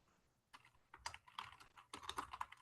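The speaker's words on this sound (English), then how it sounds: "You can hear me typing." Typing on a computer keyboard, quiet close clicks in irregular quick bursts that grow busier after a brief pause, with no voices over them.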